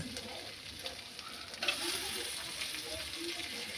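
A spoon stirs cabbage, potato and pea curry with tomatoes in a frying pan, giving quiet scraping and a soft sizzle that swells into a steady frying hiss partway through, close and low.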